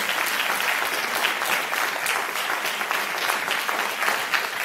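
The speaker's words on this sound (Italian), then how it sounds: "Facciamo un altro applauso" A group of young people and their audience applaud steadily at an Italian community event, dense even clapping that stays loud and continuous throughout with no pauses.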